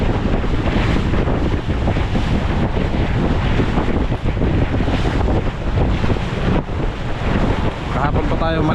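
Rough sea on a fishing boat out for tuna, with strong wind buffeting the microphone and waves crashing and surging against the hull in a constant loud roar throughout.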